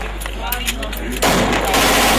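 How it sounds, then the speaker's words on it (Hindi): Gunfire at a Pakistani wedding, where guests fire shotguns and a possible AK-47: a loud, dense burst of shots erupts suddenly after a moment of quieter crackling, close and harsh. "AK-47 शायद"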